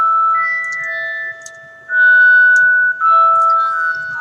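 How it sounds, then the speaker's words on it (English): A phone plays a security alarm alert for an apartment, a loud electronic tone sounding in two-note beeping phrases that repeat and shift in pitch, with a brief drop between bursts and no talk. "We both get alerts for her security alarm at her apartment."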